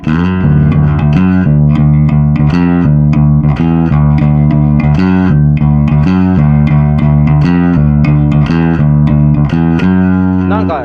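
Bass guitar played through a Tube Screamer distortion model on a Zoom MS-60B multi-effects pedal, a steady fuzzy riff of repeated notes with a gritty, compressed tone that runs continuously and loudly for about eleven seconds.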